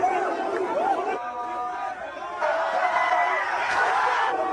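A basketball arena crowd roars and chatters continuously after a between-the-legs play, a dense, loud wash of cheering voices throughout.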